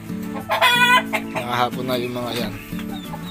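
Chickens and turkeys in a backyard farm coop of Rhode Island Reds cluck and call in busy, overlapping bursts close by, while someone talks over them.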